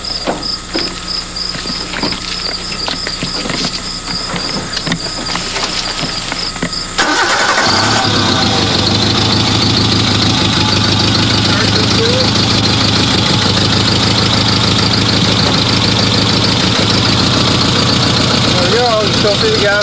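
A Suzuki Samurai engine cranks and fires about halfway through, then settles into a steady, loud idle that runs to the end, with a person talking underneath.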